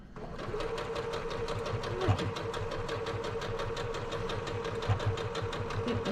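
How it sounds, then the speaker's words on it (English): A sewing machine runs steadily through a quilt block seam at a quarter-inch allowance for a wallhanging, a continuous close whir with rapid needle pulses and faint background movement. "you just sew that on with, again, your quarter-inch seam allowance"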